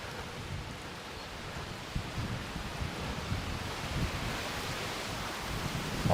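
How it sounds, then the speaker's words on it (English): Steady wind buffets the microphone in Toronto's High Park, a low rumbling roar with gusty swells and no voices. "Oh man, it is windy."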